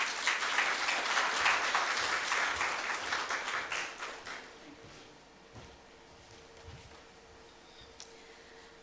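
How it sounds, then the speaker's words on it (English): An audience at a World Food Safety Day event claps after a speech, a dense burst of applause that thins and fades over several seconds, leaving a quiet room with faint murmurs. "I think that deserves another round of applause."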